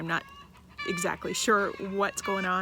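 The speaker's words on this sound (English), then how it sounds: "my neighbor's chickens are going crazy next door" Neighbor's backyard chickens cluck and squawk loudly and insistently next door, their harsh calls repeating in bursts while a person speaks over them.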